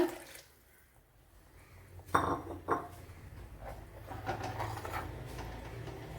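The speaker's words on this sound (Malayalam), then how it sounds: "കുറച്ച് വെള്ളം കൂടി ഒഴിച്ചു കൊടുക്കുക." Water poured into a pan of simmering squid curry, a couple of sharp clinks at the start, then a soft steady splash and bubbling that carries on low and close.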